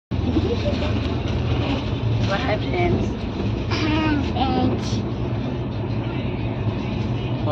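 A constant, close rumble of the Odisha Sampark Kranti Express under way, heard from on board, with someone speaking over the steady rolling noise throughout.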